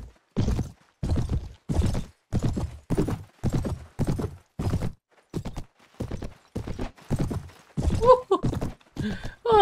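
Horse hooves gallop in Mount & Blade: Warband Viking Conquest, with a steady rhythm of loud, close clip-clop beats and a whinny near the end.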